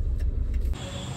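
A car flooded with water in Haridwar idles just after starting, giving a low, steady engine rumble with a slight shift in tone near the end. No one speaks over it.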